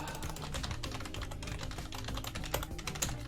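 Rapid typing on a computer keyboard during live coding, a steady run of close, crisp key clicks with a few louder strokes, no talking.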